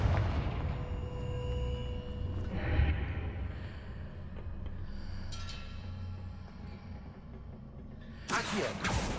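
In Hogwarts Legacy, the Confringo blasting spell fires with whooshing bursts over rumbling game ambience, and a sharp, loud blast erupts near the end.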